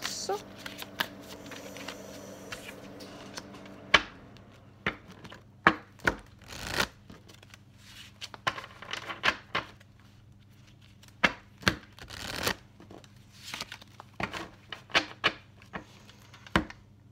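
Oracle cards from a tree wisdom deck are shuffled by hand, with a faint riffle and then a rapid series of sharp, close slaps and flicks in irregular bursts, alone and without talking.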